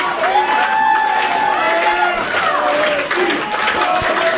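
A near sold-out crowd at an independent wrestling show in a fire hall cheers and whoops loudly and continuously, with scattered clapping and shouting mixed into the dense roar.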